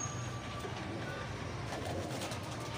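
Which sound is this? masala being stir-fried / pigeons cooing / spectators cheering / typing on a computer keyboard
pigeons cooing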